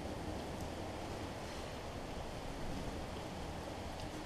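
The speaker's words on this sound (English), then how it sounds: "as the rain picks up outside." Rain falls steadily outside during a carburetor swap on a Troy Bilt pressure washer with a Honda GCV160 engine, a dense, even hiss that holds at a constant level throughout.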